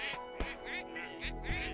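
Cartoon ducks quack repeatedly as a flock of birds departs, several bright nasal calls spaced through the moment over a steady musical background.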